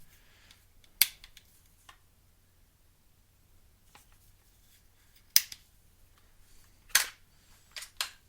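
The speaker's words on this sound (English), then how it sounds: "Now this charging handle does have to go up and in like on real AR-15." The charging handle of a .22 AR-15 style rifle is worked, giving several sharp, close metallic clicks and clacks spaced apart in a quiet room.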